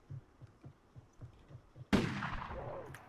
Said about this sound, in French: Et qui est-ce qui a tiré un coup de feu?